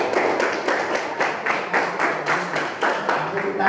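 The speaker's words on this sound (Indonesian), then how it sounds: "Terima kasih untuk kelompok 2 diberi aplaus dulu" A classroom group gives a round of applause, with a regular, rhythmic clapping pattern in unison at moderate loudness, close by and with no talk over it.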